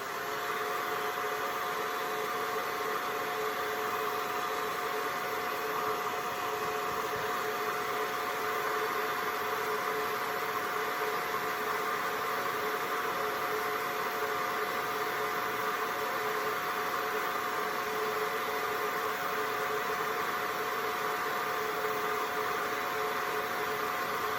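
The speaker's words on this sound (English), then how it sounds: "I'm going to give it a quick blast with the hair dryer just to make sure it's dry" A hair dryer blows in a steady, unbroken broadband roar with a faint tonal whine, running continuously and close by with no talking.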